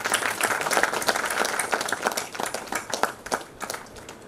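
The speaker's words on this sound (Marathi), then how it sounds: "त्यांच्या सत्काराकरता जोरदार टाळ्या होऊ द्या" At a retirement felicitation ceremony, a hall audience breaks into brisk applause, many hands clapping in a dense, lively patter that thins slightly toward the end.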